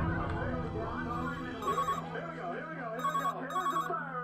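A telephone rings in repeated short electronic bursts, fairly close, sounding over a steady hum and background activity with people talking.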